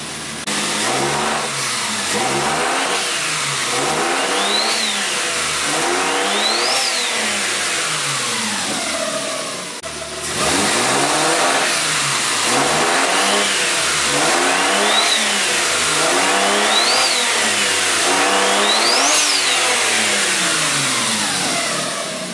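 Engine of a Renault 5 Maxi replica revved repeatedly while stationary, turbo spooling up under boost; rising and falling swells come in several close, loud bursts with a steady mechanical drone between, no talking.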